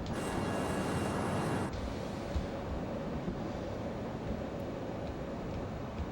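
Learjet 35 jet engines roar steadily during a takeoff climb in Flight Simulator 2024, a loud, constant broadband rush with no talk.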